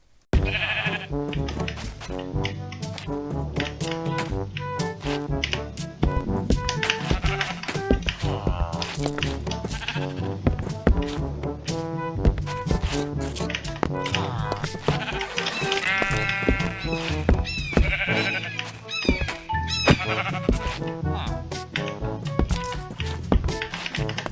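Sheep bleat over and over in the Minecraft video game, loud and close, mixed with frequent sharp taps and thunks.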